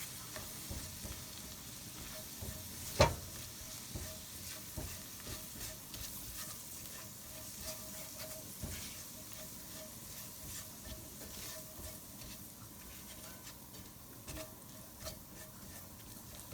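Garlic and flour are stirred in a hot pan, with a soft steady sizzle and scraping strokes, a sharp knock near the start, quiet and close with no talking.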